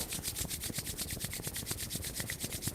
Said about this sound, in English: take the palms together and rub the palms together to create heat in the palms of the hands